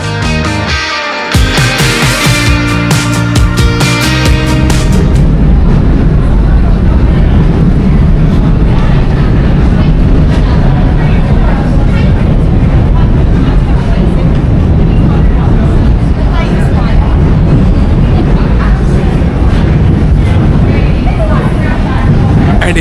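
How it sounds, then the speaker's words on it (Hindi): Trains rumble across the overhead railway track above Borough Market in London, a loud sustained roar filling the space after a brief burst of music at the start. "ऊपर है रेलवे ट्रैक जिसके वजह से साउंड आ रहा है, ट्रेन्स आर पासिंग।"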